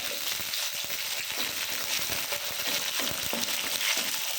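Three green chillies sizzle and fry steadily in hot oil in a pan, being sautéed for a pickle; a continuous close crackling hiss with the occasional stir and no talking.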